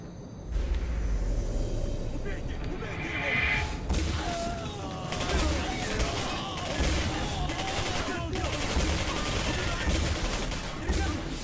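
Soldiers trade rapid gunfire in the video game Singularity, with repeated bursts and sharp shots over a steady, noisy game backdrop.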